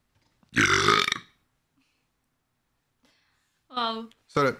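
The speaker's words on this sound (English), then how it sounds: "you heard me burp as well" A loud, long burp rumbles out near the microphone during a gaming stream, followed after a pause by people talking.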